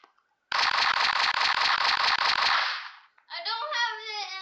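A sustained, loud burst of rapid automatic gunfire rattles for about two seconds in the Cube sandbox video game, then cuts off before a short stretch of talk.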